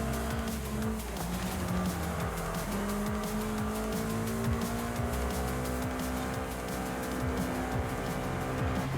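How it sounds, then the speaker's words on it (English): Tires squealing and skidding in the racing video game Forza Horizon 5 over a sustained engine drone, a continuous close car sound with shifting pitch and no voices. "you don't gain traction, they just skid."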